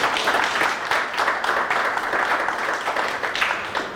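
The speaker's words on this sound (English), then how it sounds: "I would like those from Hekima to welcome you with a round of applause." Audience applause welcoming guests at an African women theologians conference, a steady crowd of clapping hands filling the room for several seconds, fairly near and without a break.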